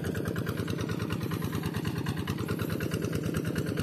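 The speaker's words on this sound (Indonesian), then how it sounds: "Makane iki traktor." A tractor engine chugs steadily at a low, even rhythm on a road, close by and continuous, with no voices.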